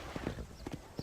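Horse hooves clip-clopping in the Red Dead Redemption video game, a handful of quiet, irregular hoof knocks at moderate distance.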